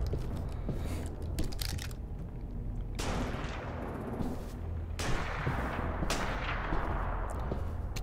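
Gunfire in The Walking Dead video game, a run of loud, dense shots and blasts filling the whole stretch, with sharp surges near the start, middle and later on, and no voices over it.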